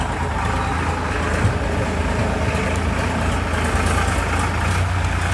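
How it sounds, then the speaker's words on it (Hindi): A large tractor passes close by, its heavy engine a loud, steady rumble that fills the whole stretch without letting up, with no talking. "बड़ा ट्रैक्टर जा रहा है, तो जाने दो उसको, ट्रैक्टर वाक बड़ा हल्ला कर रहा है।"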